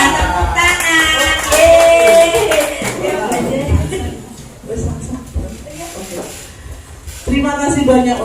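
Audience applause at the close of a community dissemination event, a steady wash of many hands clapping over about eight seconds, loud and sustained, with voices and chatter mixed in underneath.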